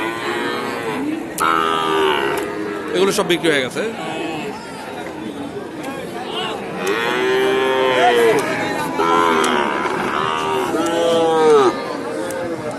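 Native cattle mooing repeatedly at a busy traditional cattle market in Naogaon, several drawn-out calls near and loud amid crowd chatter, with someone speaking over them.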